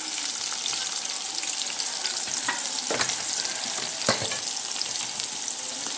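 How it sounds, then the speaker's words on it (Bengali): Pieces of young jackfruit fry in hot oil with a steady, dense sizzle throughout, broken by a few sharp crackles and spatters as more pieces drop into the pan. "এবার আমি এই তেলে এঁচড়গুলো দিয়ে দিচ্ছি"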